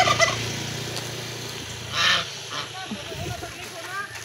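A turkey at a home resort gives a short gobbling burst mid-clip, with softer fowl calls scattered around it and a voice speaking faintly nearby.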